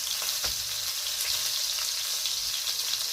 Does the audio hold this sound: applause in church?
no